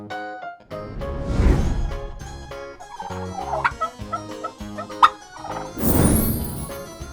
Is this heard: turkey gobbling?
yes